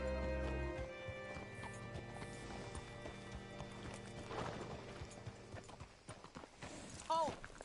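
Horse hooves clip-clopping in Red Dead Redemption II as a rider slows and stops, heard over game music and ambience with a brief whinny near the end.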